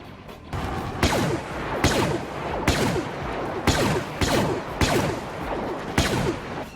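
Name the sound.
blaster fire in video game Star Wars Battlefront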